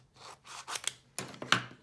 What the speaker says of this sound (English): That's kind of a big piece, let me cut it.